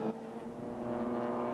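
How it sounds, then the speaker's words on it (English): A race car rushes past during a VLN endurance race on the Nürburgring Nordschleife, its engine note swelling briefly, close and loud. "that may have been the pass for the lead there, Johnny."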